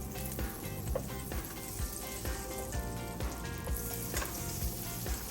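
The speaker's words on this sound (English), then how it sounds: "Nice little sizzle." Butter crackles and sizzles in hot olive oil in a pan, a steady fizzing hiss with small pops throughout, close up and with no talking.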